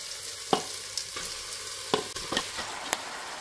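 Chicken meat sizzles in a pan with lightly fried onions, a constant soft hiss broken by several sharp clanks and scrapes of a spoon stirring against the pan.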